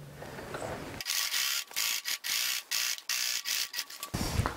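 A sewing machine stitches a seam on a tote bag in short, loud, rapid bursts separated by brief pauses, each run a dense mechanical whirr, ending with a quick backstitch.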